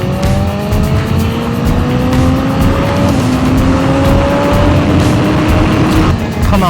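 A BMW S1000RR motorcycle on a race track gives a loud, close engine roar that climbs repeatedly in pitch as it accelerates through the gears, sustained throughout with wind noise.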